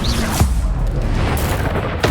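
An explosion spell goes off in Hogwarts Legacy, a loud low boom with rumbling spell effects and a second burst near the end.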